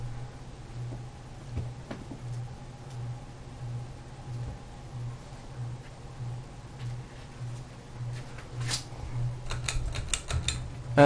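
A small, inexpensive electric fan runs on medium speed with a steady low hum and a rhythmic ticking rattle, and a few sharper clicks and knocks come near the end.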